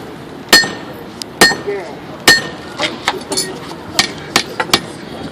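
A sledgehammer strikes a Japanese knife blade during forging, giving loud, sharp metallic clangs spaced irregularly about a second apart, with lighter taps and ringing between the heavy blows.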